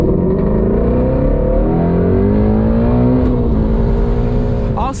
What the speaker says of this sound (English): every time I do a pull with this thing in the cold weather with these Cup 2 tires, I just spin